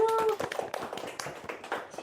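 Audience at a stand-up comedy show in Indonesia breaking into clapping: a steady patter of many hands, fairly close, following a brief tone at the start.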